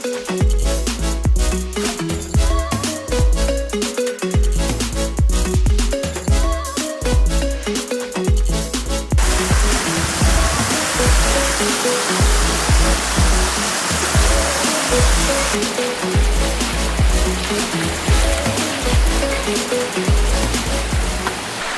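A river rushes loudly through a landscape with waterfalls, a dense continuous roar close by, punctuated early on by rhythmic low thumps and knocks before settling into an unbroken torrent.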